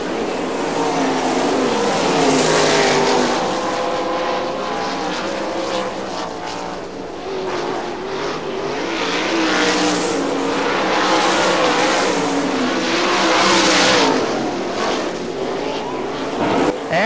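410 sprint cars race around Butler Motor Speedway in Quincy, their engines roaring loud and continuous with rising and falling pitch as the pack passes, layered engine tones and crowd-level noise under a faint announcer voice.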